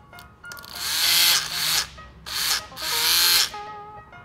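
A 1950s Remington Rollectric electric shaver buzzing in three loud bursts, each starting and stopping abruptly with a high-pitched whirring motor whine, close to the listener.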